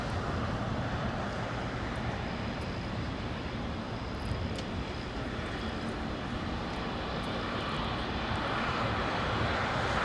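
An ANA airliner in special livery taxis at LAX, its jet engines a steady, loud broadband roar that holds without a break throughout, with no voices over it.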